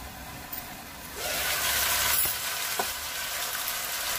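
Potatoes and tomatoes with salt cooking in a covered pan for a dry Indian vegetable dish. A soft, steady sizzle rises after a quiet moment and continues evenly nearby, with no talking.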